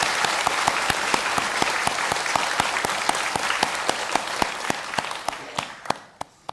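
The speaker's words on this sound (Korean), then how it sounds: "우리 기도원 식구들을 위해서도 한번 박수하겠습니다" A church congregation at a New Year prayer service claps loudly in brisk, even unison, about five claps a second. The clapping holds steady, then thins out and fades near the end.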